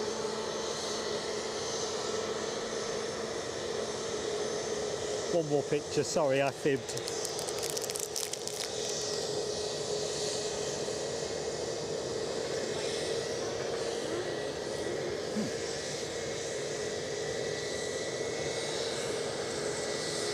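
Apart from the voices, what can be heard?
planes at Edinburgh airport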